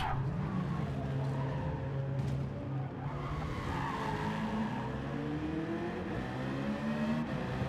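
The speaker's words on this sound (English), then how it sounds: "And he hit the brakes quite hard." Race cars in Gran Turismo 7 brake hard with tire squeal and skidding over sustained engine roar during an online daily race, the engine pitch shifting as the cars slow and rev back up.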